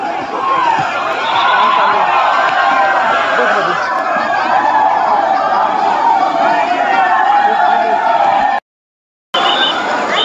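A dense crowd at The Great Escape Water Park in Virar, Mumbai, keeps up a loud, continuous chatter with scattered shouts and laughter. It cuts out for a brief silent gap near the end, then resumes.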